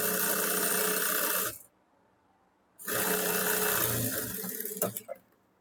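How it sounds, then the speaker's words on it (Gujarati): A sewing machine stitches a gauze strip onto a blouse with a loud, steady whirring motor run, a pause of about a second, and then a second run that ends in a few soft clicks. "અહીંયા પણ આપણે અડધા ઇંચના ગેપમાં સિલાઈ લગાડવાની"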